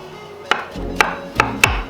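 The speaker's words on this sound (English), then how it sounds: "Give a rough chop." Knife chopping ingredients for birria tacos: four sharp, evenly spaced chops against a board with a low rumble between them, close and loud.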